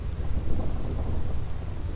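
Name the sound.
thunder in Final Fantasy X Thunder Plains, video game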